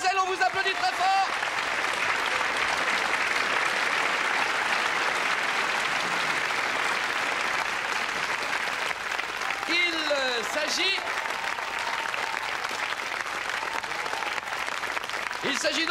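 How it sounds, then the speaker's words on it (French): Studio audience on a French evening television variety show applauding loudly and steadily for a contestant, a sustained wash of clapping with a voice speaking briefly near the start and again toward the end. "mademoiselle, on vous applaudit très fort."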